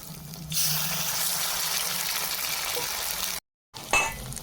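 Batter-coated vegetables hit hot oil with a sudden, loud, continuous sizzle that holds steady, cuts out briefly, then returns with a sharper crackle.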